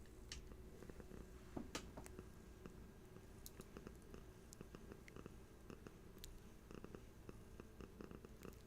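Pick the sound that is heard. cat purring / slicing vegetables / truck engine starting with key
cat purring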